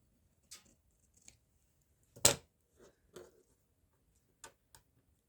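Scissors snip book-page paper in a handful of sharp, separate cuts spaced irregularly, close and fairly quiet against a silent background.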